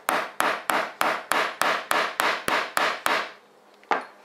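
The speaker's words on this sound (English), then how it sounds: "we're going to again take our hammer." A hammer strikes a domed leather tomahawk cover to flatten it, giving about eleven steady, evenly spaced knocks and then one final blow after a short pause, close and clear.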